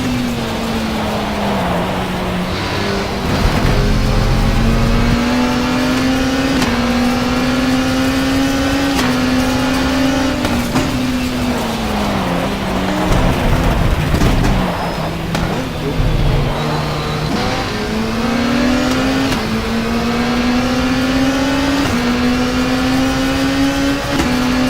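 A race car engine in the WTCC racing video game drones loudly and continuously, pitch climbing and dropping through gear changes and revs with brief dips, close and steady throughout.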